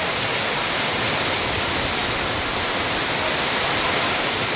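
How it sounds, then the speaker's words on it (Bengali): Heavy monsoon downpour outside, a dense, steady roar of rain that stays even and loud throughout with no voices. "দেখো কি মুষলধারে বৃষ্টি হচ্ছে"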